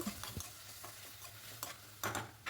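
Coconut paste is stirred into onions frying in a pan for vatha kuzhambu, with a soft background sizzle and repeated scraping strokes from a spoon.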